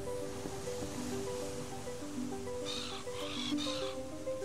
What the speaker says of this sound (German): I can't take anything until the seagull goes away.